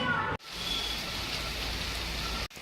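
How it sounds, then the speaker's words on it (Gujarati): Rain pours down steadily in a dense, even hiss, briefly cut off at the start and end. "તો અત્યારે ફૂલ વરસાદ ચાલુ છે."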